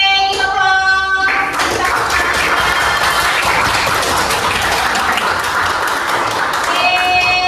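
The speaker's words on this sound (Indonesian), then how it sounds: "Tepuk 1 kali. Tepuk 2 kali. Tepuk 3 kali." Classroom of students clapping hands together in a counted rhythm, bursts of claps over a steady wash of sound, with a teacher's voice and electronic tones before and after.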